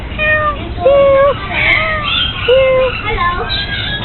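An African grey parrot imitates a cat, giving several clear, drawn-out meow-like calls with rising and falling pitch among other chirpy vocal sounds, close and loud, with people's voices in the background.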